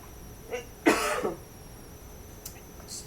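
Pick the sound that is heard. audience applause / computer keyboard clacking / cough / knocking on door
cough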